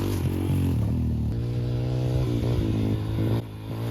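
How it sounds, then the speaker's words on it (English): A small Yamaha TTR125 dirt bike, freshly repaired, runs on a test ride with a loud, steady buzzing engine note that rises and falls slightly, close up, with some clatter and no talking. "I just fixed up this little TTR125 and let's give it a little test ride."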